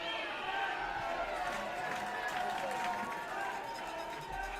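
A baseball crowd at a league finals game swells into loud, sustained cheering and clapping, a broad roar filling the ballpark while an announcer keeps talking over it.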